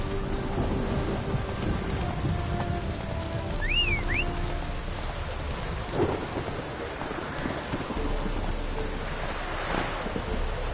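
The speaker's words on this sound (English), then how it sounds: "A storm, damn it." Steady rain and rolling thunder from a storm in The Witcher 3, a dense hiss of falling rain with low rumbles throughout and a brief whistling call partway through, no talking.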